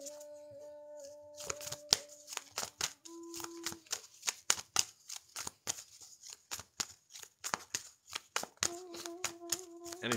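A tarot deck cut and shuffled by hand, a quick run of crisp card flicks and riffles, close and clear, with faint sustained tones behind them.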